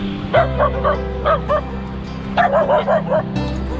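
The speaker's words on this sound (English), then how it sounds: "The dogs are barking." Dogs bark and yip at Silliman Beach in two quick bursts of several sharp barks each, close by, over a low steady engine-like hum.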